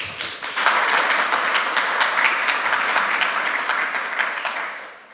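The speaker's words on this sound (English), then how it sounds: "So please give a warm round of applause for Stefan." Conference audience at EuroPython applauds a speaker, dense steady clapping from many hands that swells quickly, holds for several seconds, then fades out at the end.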